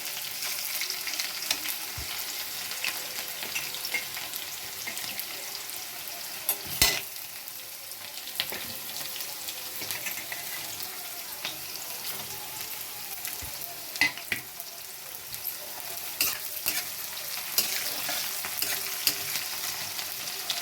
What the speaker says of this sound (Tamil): மிளகாய் போட்டவுடனே வெங்காயம், வெங்காயம் கொஞ்சம் நல்லா செவக்க வதக்கணுங்க